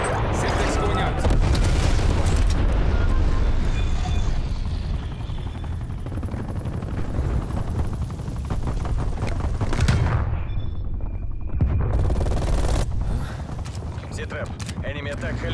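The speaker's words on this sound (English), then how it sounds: "Enemy attack helicopter above." An enemy attack helicopter in Call of Duty: Black Ops Cold War roars continuously, its rotor overlaid with rapid gunfire and heavy booms, like a loud game battle.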